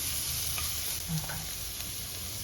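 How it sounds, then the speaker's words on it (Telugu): Crispy corn frying in a pan over medium heat, a steady bright sizzle with faint stirring clinks, close and continuous with no voices. "బాగా ఫ్రై చేసుకోవాలి ఎక్కువ ఎక్కువ ఫ్రై చేయొద్దండి కొంచెం మీడియంగా ఫ్రై చేస్తే టేస్ట్ బాగుంటుంది"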